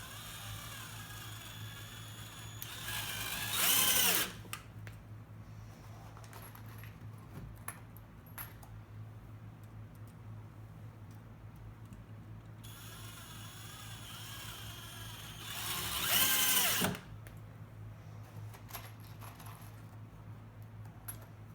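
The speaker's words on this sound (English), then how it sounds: "I'll run some screws with it, because that's probably what most people are going to do." A Drill Master cordless drill drives 1.25-inch screws into wood without pre-drilling, its motor whirring in two separate short bursts over a low steady hum, with quiet handling sounds between.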